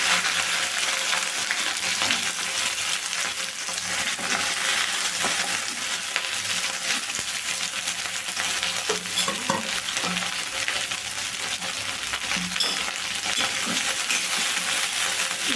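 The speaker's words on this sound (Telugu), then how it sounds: "ఆయిల్ అయితే హీట్ అయింది బెండకాయ ముక్కలు వేయించుకోవాలండి" Okra pieces fry in hot oil with a loud, dense sizzle throughout, joined by occasional light clinks and scraping as they are stirred.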